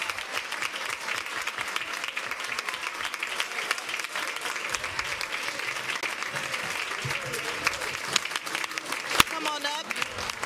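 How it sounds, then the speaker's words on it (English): Sustained applause and clapping from a board meeting audience honoring the MLK girls state champion team, a steady wash of hands lasting several seconds at moderate distance, with a few louder claps near the end. "Let's give them a round of applause."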